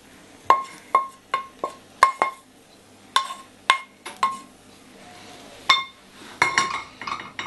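Metal utensil clinks against a frying pan and plate while scrambled egg is moved from pan to plate, a series of sharp bright ringing taps in uneven rhythm, close and fairly loud.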